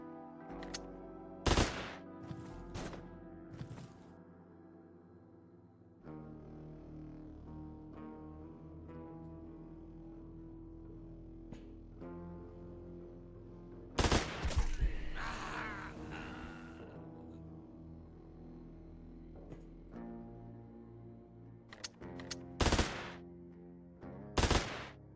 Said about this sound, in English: There's a turret back there.